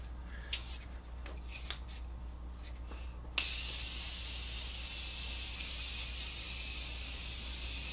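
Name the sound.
Morphe Continuous Setting Spray being sprayed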